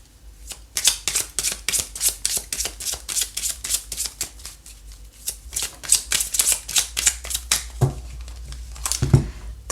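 Tarot cards shuffled by hand for a reading, a long run of quick crisp riffling flutters close up, steady and unbroken with no voices.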